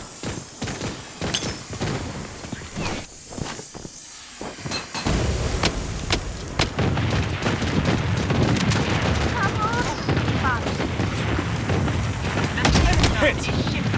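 Grenade blast and rapid gunfire in the shooter game Blood Strike, a dense, loud barrage of sharp shots and booms that swells after a quieter opening and keeps rattling to the end.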